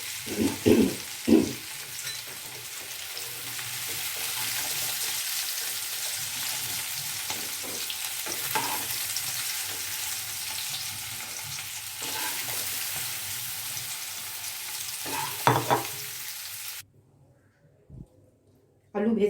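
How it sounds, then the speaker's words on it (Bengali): Potatoes frying in oil in a pan for a Bengali green aloo dum breakfast, a steady broadband sizzle with occasional stirring knocks, fairly close, running under faint talk before cutting to near silence at the end. "আলুগুলো কিন্তু বেশ লালচে করে ভাজা হয়ে গেছে"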